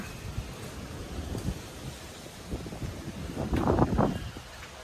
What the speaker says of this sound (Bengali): আকাশে এখন মেঘটা নেই, কিন্তু বিভৎস হাওয়া দিচ্ছে